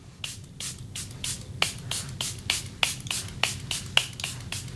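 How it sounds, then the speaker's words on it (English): Charlotte Tilbury Airbrush Flawless Setting Spray is misted in a rapid series of about a dozen short, crisp hisses, each a brief burst close to the mic over a low steady background hum. "I'm going to use my Charlotte Tilbury Airbrush Flawless Setting Spray."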